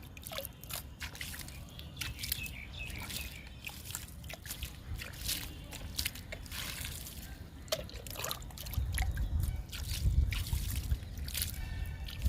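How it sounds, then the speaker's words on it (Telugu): Water is poured from a mug into a garden tub filled with composted kitchen and garden waste and soil, freshly sown with bitter gourd seeds, giving a soft, close trickle and drip over low background rumble that swells slightly toward the end. "ఇప్పుడు మనం వాటర్ ఇచ్చేద్దాము"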